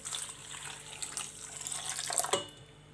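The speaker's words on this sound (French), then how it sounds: "je vais ajouter un peu de lait tiède." Warm milk pours steadily into brioche dough in a bowl, a close, continuous liquid splash with a brief heavier gush near the end and no voices.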